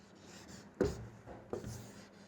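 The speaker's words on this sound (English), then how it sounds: "I'll write it on the board." Chalk or a marker scratches across a classroom board in two distinct strokes, close and moderately loud over quiet room noise.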